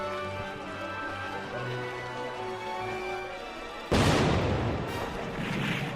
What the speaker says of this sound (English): Gunfire. The fighting is beginning.